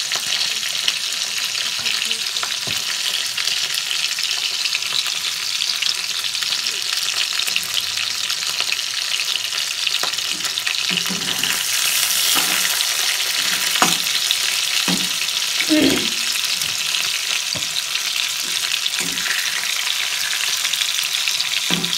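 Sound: chicken frying in oil for tandoori chicken

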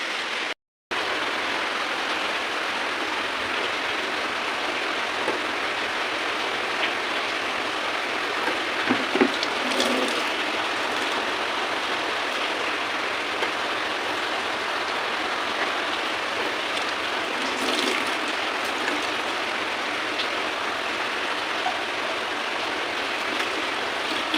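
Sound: rain falling on surfaces

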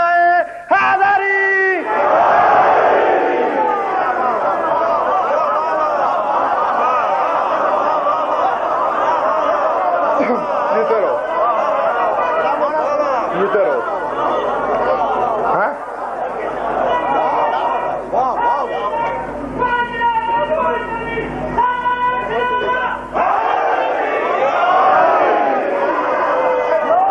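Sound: crowd chanting the slogan Nara-e-Haidari

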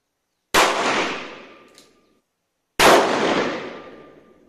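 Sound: 38 and .357 Magnum gunshots fired at a backpack

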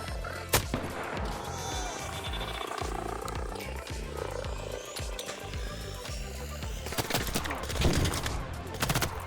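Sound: gunfire in the video game Arc Raiders

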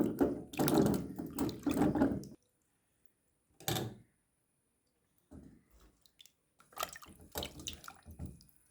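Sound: washing vegetables in plain water

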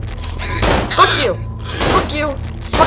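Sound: gunshots in the video game Cry of Fear

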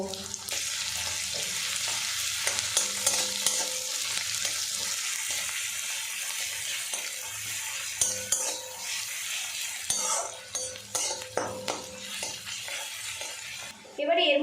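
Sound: chopped onion frying with salt, stirred in pan

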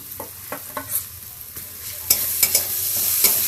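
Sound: frying garlic paste with onions in a pan

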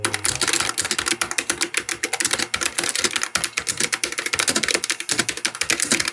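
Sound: typing on a low profile keyboard

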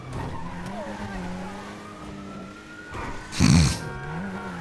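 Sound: car braking and skidding in a racing video game

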